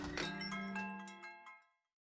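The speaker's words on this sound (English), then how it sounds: "Does he have a bell on his door?" A door bell in the Saya no Uta visual novel chimes once, a clear ringing tone with a few quick repeated strikes that decay into silence.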